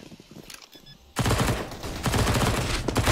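Rapid pistol fire in a Counter-Strike pro match between FURIA and Fnatic at ESL Pro League, a quiet lead-in followed by a loud, dense burst of shots that continues steadily to the end.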